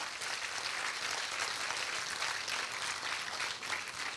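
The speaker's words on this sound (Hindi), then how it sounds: "आप लोगों को अच्छा लग रहा है तो एक बार तालियां बजाकर बताइए।" Steady, dense applause from an audience at a Hindi hasya kavi sammelan comedy poetry event, a continuous even wash of clapping held at moderate distance for the whole stretch without voices.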